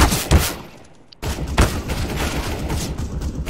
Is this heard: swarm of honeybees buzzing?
no